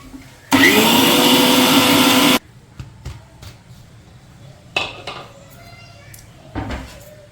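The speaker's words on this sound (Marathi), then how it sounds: "आता पुन्हा चांगला मिक्सरला वाटून घ्यायचं याला." A mixer grinder whirs loudly for about two seconds grinding kala masala spices with turmeric, then stops, followed by clinks and knocks of the jar and lid and brief rattling.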